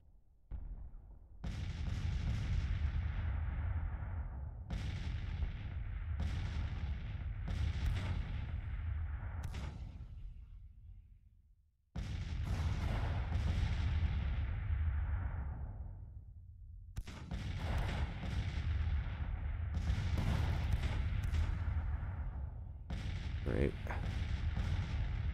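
Artillery fire in the video game Grand Tactician: The Civil War, a series of heavy booming cannon shots, some in quick pairs, each trailing off in a long rumble, with a brief lull midway.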